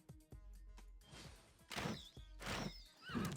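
Horse neighing and whinnying from Civilization VI gameplay, several loud whinnies in succession with hoof clatter at the start, no talk over it.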